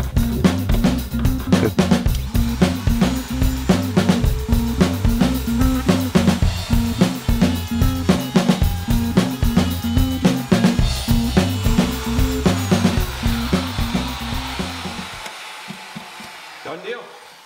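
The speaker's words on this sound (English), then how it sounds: "what I do from here is just router this out with a router" A handheld router cuts freehand into the wood of a cajon, a loud continuous whining roar with rhythmic chattering as the bit bites, running steadily before winding down and fading near the end.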